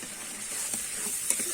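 Spices and turmeric powder sautéing in hot oil for tangra fish curry, a steady bright sizzle with faint stirring scrapes, close and continuous.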